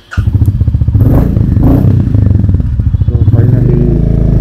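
Royal Enfield Classic 350 motorcycle engine running loud and close at the start of a solo ride, with a steady pulsing thump and revving throughout; no talk.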